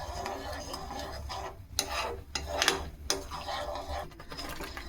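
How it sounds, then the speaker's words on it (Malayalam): A spoon stirs thickening bilimbi jam with sugar in a pot over heat, making soft, irregular scraping and rubbing sounds with small knocks. The stirring is quiet and close. "കൈവിടാതെ ഇളക്കിക്കൊണ്ടേയിരിക്കണം."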